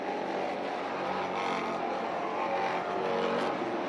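Stock cars race through a corner at a short track during a Pro Stock feature, a continuous loud roar of several engines blending together without a break.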